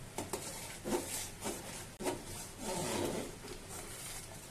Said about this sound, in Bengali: আপনারা একটু পর পর এভাবে নেড়ে চেড়ে দিবেন যেন পাঁচিলের তলায় লেগে না যায়